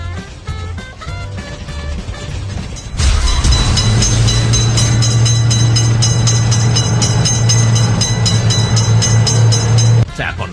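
In a children's cars-and-trains game, a cartoon train rolls by with a loud sustained low rumble for several seconds, rising out of and ending back into cheerful background music.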